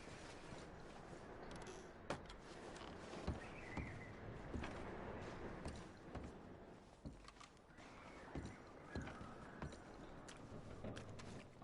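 Horse hooves clip-clop at a steady walk in Red Dead Redemption 2, moderately close, mixed with creaks and clanks of tack under a dense bed of outdoor ambience with no talking.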